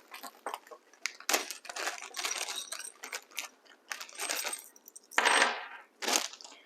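Small metal screws for assembling the wooden frame of a bamboo hydroponic grow system rattle and clink as they are handled, in a series of close, bright, irregular bursts with short pauses.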